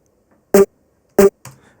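A dry, unprocessed brass hit sample from the Ultra Beats drum machine, struck twice as short, punchy stabs about half a second apart, then a softer, shorter third hit trailing off.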